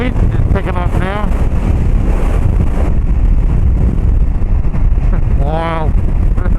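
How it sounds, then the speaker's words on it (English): Strong wind buffets the microphone in a steady, loud rush that lasts the whole stretch, with someone talking over it near the start and a brief tonal whine near the end. "Oh, that wind is picking up now."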